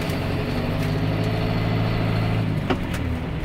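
A John Deere 6320 tractor engine runs steadily in third gear, a continuous close mechanical drone with no talk over it.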